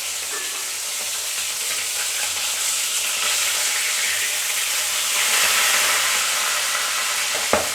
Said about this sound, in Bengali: ঢাকা দিয়েছে, তাও বোম ফোটার মতো ভিতরে দুমদাম দুমদাম করে ফুটছে